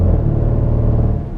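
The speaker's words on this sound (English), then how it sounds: "I love this supercharged V8" The supercharged V8 of a 2017 Range Rover SVR gives a loud, close, deep engine drone that holds steady through a short burst and eases off at the end.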